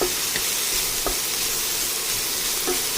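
Cabbage and chicken stir-fry in a hot pan, giving a continuous close sizzle broken by a few brief scraping stirs.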